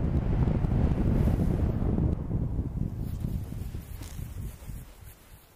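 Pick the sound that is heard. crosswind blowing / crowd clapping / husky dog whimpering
crosswind blowing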